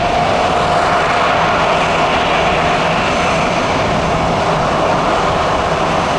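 A Delta jet on a reposition flight with no passengers moves onto the runway, its engines giving a loud, steady broadband roar and a sustained tone that stays even throughout.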